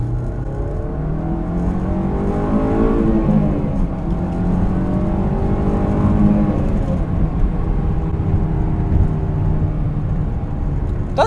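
A Honda S2000 with its top up pulls hard in second gear from 2,000 RPM, the engine note rising steadily under load in one continuous, loud, close run.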